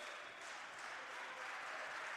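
A crowd at a women's college volleyball match in an indoor arena applauds and cheers, a steady wash of clapping that stays faint and distant throughout.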